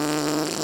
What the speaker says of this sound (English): loud fart heard.